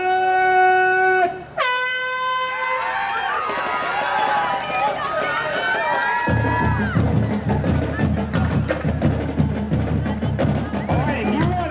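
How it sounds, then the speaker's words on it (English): A loud, sustained air horn blast starts a community running race; cheering from a crowd and the patter of many runners' footsteps follow. "I will give you a verbal command, and then Steve will have the air horn."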